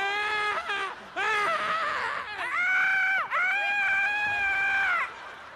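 Loud, shrill screaming and wailing outdoors at a live comedy music recital, several long, pitched cries in a row with brief breaks, stage voices and crowd noise faint underneath.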